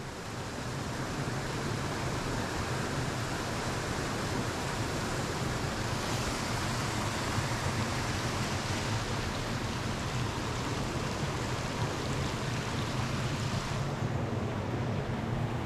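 A canyon waterfall roars as a constant, loud rush of water, steady from start to finish with no pauses.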